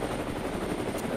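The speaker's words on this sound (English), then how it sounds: "Look, we got three helicopters." Helicopters in a video game thrum with a low, continuous rotor drone, loud and steady through the brief moment with no voices.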